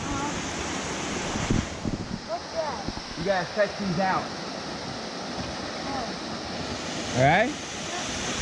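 A waterfall roars steadily at night, a loud continuous wash of falling water close by, with people talking and calling out over it at intervals.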